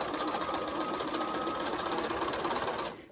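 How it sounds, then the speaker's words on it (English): Steady, fast buzzing whir of a sewing machine stitching quilt pieces together, running continuously at close range and cutting off at the end. "I'm going to sew."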